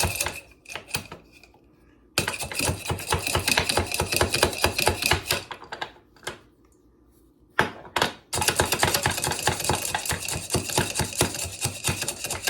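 A manual food chopper works through hard pecans, with rapid rattling clacks in long bursts separated by brief pauses, loud and close, no voices.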